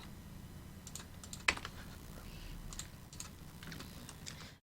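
Soft clicks of computer keyboard shortcuts being pressed while drawing in design software, a few scattered taps at an uneven pace, close by over a faint low hum.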